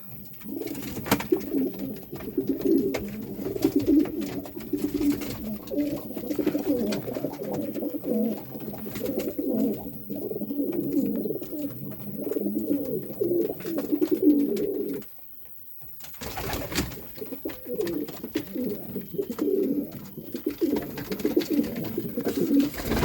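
Pigeons coo steadily and close by at a dovecote, including black and white birds, their low rolling calls layered almost continuously with a brief pause midway before resuming.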